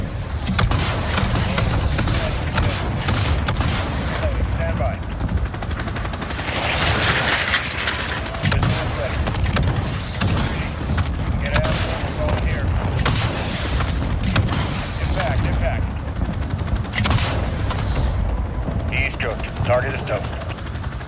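Missile launches and explosions in Call of Duty: Modern Warfare, repeated booms and bursts of gunfire over a constant rumble, loud and dense, with radio-style voices talking throughout.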